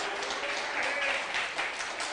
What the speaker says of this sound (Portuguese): Dá mais uma salva de palmas para Jesus